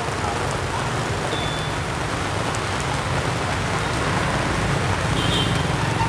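Sudden afternoon rain on a Saigon street beside a sidewalk food stall, a steady close patter of drops on surfaces and an umbrella with a low rumble of passing traffic underneath, constant throughout.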